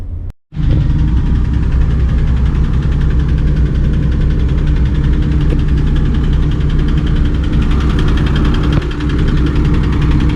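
A jeepney's engine runs loud and close after a brief start, settling into a rough, steady idle with a deep throb and faint rattle that never lets up.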